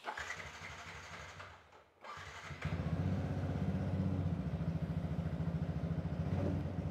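A used motorcycle's engine is cranked and catches, then settles into a steady, smooth idle that continues up close with a regular rhythmic pulse for several seconds.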